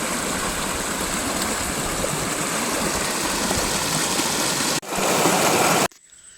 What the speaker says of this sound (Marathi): असाच अखंड वाहतोय वडा सगळं पाणी जात आहे